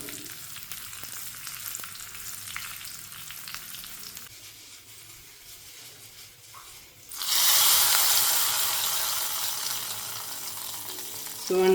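Mustard seeds, dried chilies and curry leaves hit hot oil for a Kannada-style tempering, bursting into a loud, steady sizzle halfway through after a quieter stretch of low kitchen noise; no one talks.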